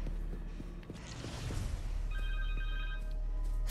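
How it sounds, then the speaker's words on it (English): A cell phone rings in the Spider-Man 2 video game, a steady electronic ringtone that enters partway through over loud game ambience and rumbling background noise, continuing to the end. "Where be the phone? Connor's cell phone."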